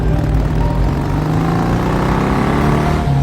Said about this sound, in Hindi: ये गाड़ी की आवाज कैसी है, लगता है कोई आ रहा है